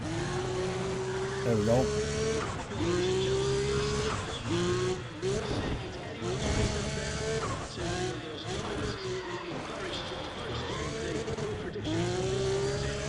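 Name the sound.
race car driving in Need for Speed ProStreet video game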